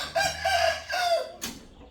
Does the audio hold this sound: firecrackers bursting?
no